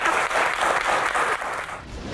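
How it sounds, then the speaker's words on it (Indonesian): Steady, dense applause from an audience at a doctors' association Q&A session, a full hall clapping continuously and fairly loud with no speech over it. "tepuk tangan tuh dokter."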